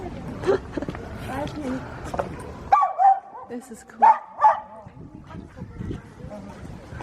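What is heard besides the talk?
small dog barking at big dog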